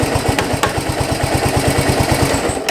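A Yamaha SR250 motorcycle engine, its carburetor freshly cleaned, idles close by with a steady, even low-pitched thump and no voices over it.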